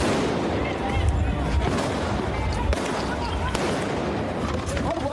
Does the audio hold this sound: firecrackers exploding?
yes